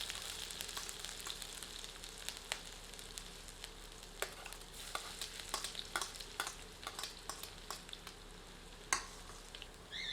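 Chopped ginger and garlic fry in a mix of ghee and oil over medium heat with cumin, giving a soft, steady sizzle broken by scattered clicks and scrapes of stirring.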